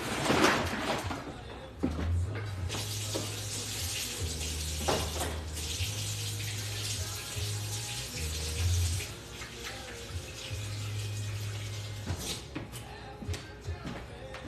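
A kitchen tap runs steadily while hands are washed underneath it, with a continuous splashing hiss and shifting water noise throughout and a low hum beneath.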